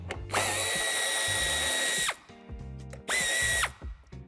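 A power drill backs out a screw on Tesla bodywork beneath the tail light, in two loud, steady whirring bursts separated by a short pause filled with quieter handling clatter.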